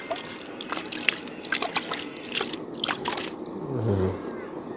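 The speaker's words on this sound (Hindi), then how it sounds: "इसी पानी से धो लेते हैं बढ़िया तरह से" Food being washed by hand in fresh stored water in a village kitchen: irregular splashes, sloshes and dribbles close by, ending in a fuller swish of water.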